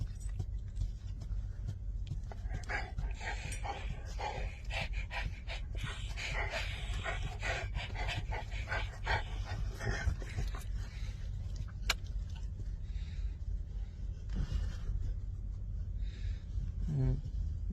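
A puppy pants quietly in soft, rapid breaths close to the listener, with faint rustling and a brief whimper near the end.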